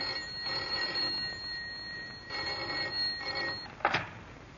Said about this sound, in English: the commonplace ringing of a telephone